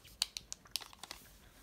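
A packet of gummy fruit snacks being opened, giving several sharp, close crinkles and tears of thin plastic in a quick, irregular burst with no talking.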